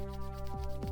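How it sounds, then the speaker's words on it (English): Hands rubbed briskly together to build warmth during a yoga meditation, a soft, close, continuous friction over a steady low hum. "Rubbing the hands together,"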